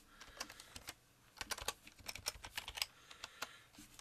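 Quick, uneven bursts of keystrokes on a computer keyboard while entering an email address to sign in, close and fairly quiet, with short pauses between clusters of taps.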